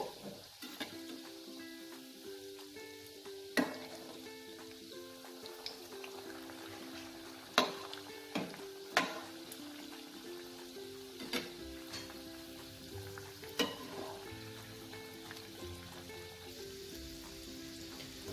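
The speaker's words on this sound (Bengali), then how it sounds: "এটা স্লো থেকে মিডিয়াম ফ্লেমে এটাকে আমরা ভাজবো।" Egg chops (Bengali dimer chop) frying in oil over a slow to medium flame give a steady, quiet sizzle with scattered louder pops and crackles throughout.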